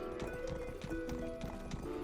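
Horse hooves clip-clop at a steady trot in the Western game Rustler, with a brisk, even rhythm of close hoofbeats over faint tonal background music.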